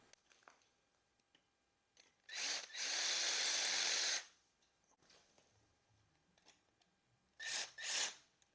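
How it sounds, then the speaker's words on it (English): A power drill with a bit enlarging a hole in a bicycle V-brake post, whining loudly in a steady burst of about two seconds, then two shorter high-pitched bursts later, with quiet pauses between. "I'm going to take my drill bit and I'm going to make that hole a little bigger so that it slides right in."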